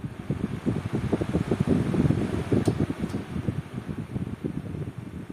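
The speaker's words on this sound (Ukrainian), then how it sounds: "якщо ви купили вентилятор, а він виявився надто шумним" A fan runs noisily up close, its motor producing a steady whir with a rapid, fluttering pulsing throughout.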